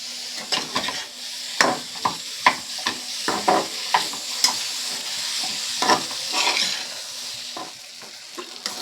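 A spatula stirs spice paste (masala) frying in a pan for Bombay duck fish curry, with sharp scraping strokes at an uneven rhythm over a continuous close sizzle. No one speaks.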